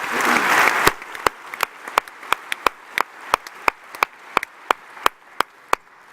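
Audience applause at a live finals event in a theater, a dense burst of clapping that quickly thins into a slow run of single, spaced claps for the rest of the stretch.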